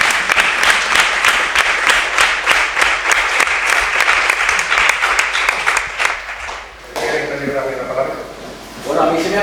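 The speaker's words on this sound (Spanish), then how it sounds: "Otro aplauso" Audience at a round-table event applauding, dense steady clapping for several seconds that stops abruptly, followed by a voice speaking.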